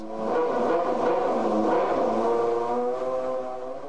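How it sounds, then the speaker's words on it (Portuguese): A McLaren Formula 1 engine at Interlagos in 1998 idles loudly then revs in a sustained, buzzing drone with shifting pitch, close and powerful. "quando a McLaren ligou o primeiro motor em Interlagos"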